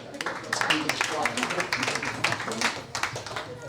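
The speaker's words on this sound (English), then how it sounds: "Can we give a hand of applause to these people?" Scattered clapping from an audience at an office inauguration event, a dense patter of hand claps lasting a few seconds, moderately near, with murmuring voices mixed in.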